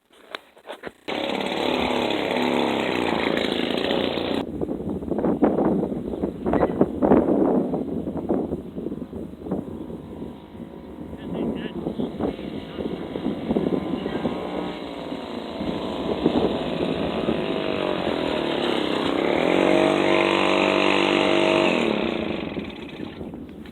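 A 1958 Wards Riverside moped engine running after restoration work, a loud raspy small-engine buzz that starts abruptly and revs up and down unevenly throughout, with no talk over it.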